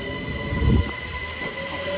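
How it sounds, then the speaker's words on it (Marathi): A train pulls out of a station with a low rumble and a steady mechanical hum, a brief heavy thud of wheels passing mid-way, a faint high squeal over it. "ही होती आपली ट्रेन. बरं झालं पळत आलो, लगेच टाईमवर भेटली. चालली आता परत."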